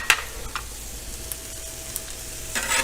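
Meat searing in a hot pan, a steady close hiss of sizzling fat with a few sharp pops and spatters, heard alone without talk.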